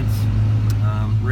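A car's heater blower runs as a steady, close hum over the idling engine while the vents switch between floor, mix, defrost and vent settings, with a faint click partway through.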